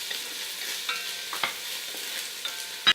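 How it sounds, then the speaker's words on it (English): Chopped onions and minced garlic stir-fried for a Japanese curry, a steady close sizzle with a few spatula scrapes and a sharper clatter at the very end, no talking. "I'm just going to stir fry this until the onions start to get a little bit translucent"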